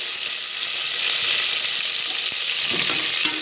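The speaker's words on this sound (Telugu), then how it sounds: "ఆనియన్ కొంచెం గోల్డెన్ కలర్ అవుతున్న వరకు బాగా వేగనివ్వండి" Onions, mustard seeds, cumin, fenugreek and curry leaves frying in hot oil for a prawn and okra tamarind curry, a close, continuous crackling sizzle with a few sharper pops near the end.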